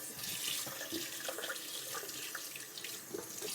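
Tap water streams steadily into a sink as celery stalks are rinsed one by one, a continuous close splashing hiss with small shifts as the stalks move under the flow.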